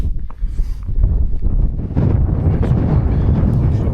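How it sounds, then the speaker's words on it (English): Strong gusts of wind buffet the microphone on an open fell hike in the Coniston area, a loud, continuous low roar that rises and thickens partway through, with no talking. "Oh, that wind's picking up again."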